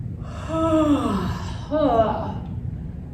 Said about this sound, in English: Here we go again, yawning.